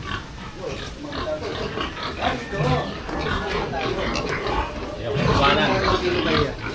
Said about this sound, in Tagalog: ang daming baboy